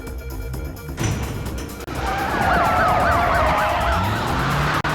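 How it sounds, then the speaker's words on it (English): A wailing siren in the video game Parasite Eve rises and falls repeatedly at mid distance over a busy, rumbling Manhattan traffic background, with a brief cut near the end. "does their garage have like a siren outside of it?"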